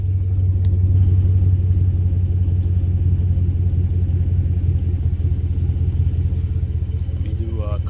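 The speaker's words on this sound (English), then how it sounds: "let's do a quick startup. Nice, it's got a nice rumble to it." A 2014–2018 GMC Sierra or Silverado pickup with an MVP aftermarket exhaust starts up and settles into a steady, deep idle rumble close by, with a brief voice remark over it.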